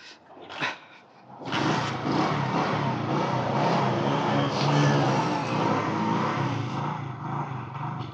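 A motorcycle left idle for two or three days is started, with a brief crank and a short burst first, then the engine catching and running in a steady, loud, close rumble.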